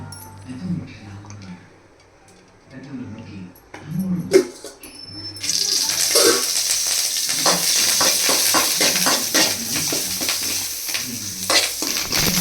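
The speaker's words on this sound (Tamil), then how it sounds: "எல்லாத்தையும் வறுத்து வச்சுக்கணும்." Ingredients for drumstick leaf powder are dry-roasted in a pan. After a quiet start with a few scattered knocks, a steady frying hiss sets in about halfway, with repeated light scraping and clicking from stirring.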